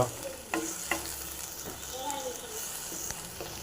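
Ginger masala paste frying in a pan for egg curry leaf masala, with a steady sizzle and scraping stirring strokes close by, a few sharper knocks of the spoon against the pan.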